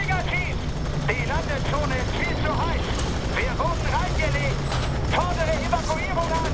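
A helicopter in the shooter video game F.E.A.R. 3 drones steadily through the whole stretch as a low rotor hum, with scattered gunfire and someone talking over it.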